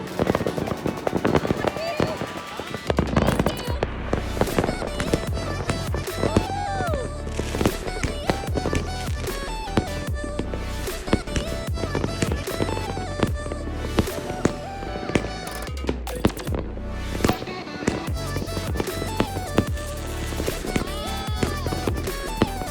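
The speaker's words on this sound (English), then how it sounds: "I got to experience the beautiful New Year's Eve fireworks" New Year's Eve fireworks in Norway, with dense, continuous crackling and popping bursts layered loudly over one another, and a few sharper bangs standing out throughout.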